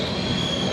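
A brief stretch of continuous train rumble with a high metallic wheel squeal running through it, loud and steady.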